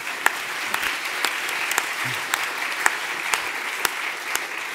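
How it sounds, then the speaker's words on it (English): Steady applause from an indoor audience, dense clapping with a few sharper claps standing out, continuing throughout without voices. "Give them a round of applause"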